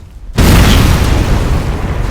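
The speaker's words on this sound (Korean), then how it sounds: "눈앞에서 폭발해버린 의문의 차량." A car explodes with a sudden loud boom after a quiet moment, followed by a dense, roaring rumble that lingers and slowly fades.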